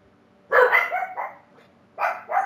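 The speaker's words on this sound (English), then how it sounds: "Ooh, we got puppies barking." Several sharp dog barks in Marvel's Spider-Man come in two close bursts separated by a brief pause, fairly near and loud against a quiet background.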